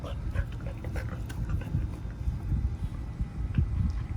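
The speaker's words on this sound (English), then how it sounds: "Crazy dog." A dog pants rapidly up close with faint whimpers, quick soft breaths repeating in an uneven rhythm at low volume.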